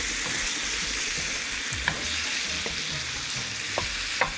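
Shrimp curry frying in a pan on medium heat while being stirred, a steady close sizzle with a few light scrapes of the spoon against the pan.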